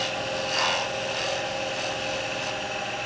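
A gouge pulled across seasoned wood spinning on a lathe while shaping a miniature cowboy hat, a steady close rasping scrape with a constant high whine from the spinning work.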